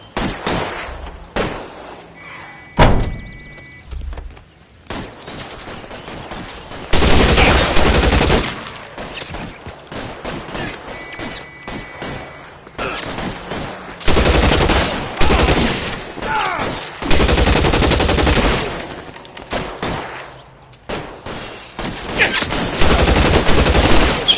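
Sustained gunfire in the video game L.A. Noire: long rattling bursts of rapid automatic shots and scattered single cracks, loud and close, with short pauses between volleys and some voices speaking between the shots.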